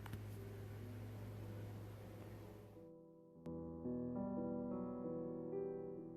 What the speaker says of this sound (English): if you guys can hear that leaf blower in the background